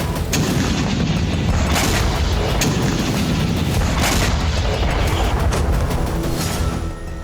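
Russian artillery fire and missile strikes pound the front in Ukraine, a run of deep booms and blasts rolling one after another over a continuous heavy rumble, loud and close, with no speech.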